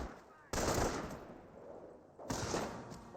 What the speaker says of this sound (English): Panzer Grenadier receiving a bit of fire now